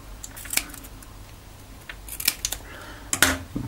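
Scissors snipping through plastic backing in a workshop, a few short crisp cuts spaced apart with quiet pauses between, close and fairly faint.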